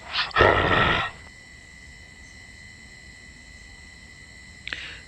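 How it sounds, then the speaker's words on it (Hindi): Monster's roar: one loud, rough burst lasting about a second near the start, then a low steady hum with a faint brief noise near the end. "जैसे ही वो इंसान राक्षस की दहाड़ सुनता है"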